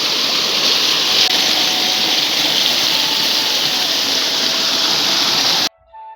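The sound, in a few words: rain-swollen mountain stream flowing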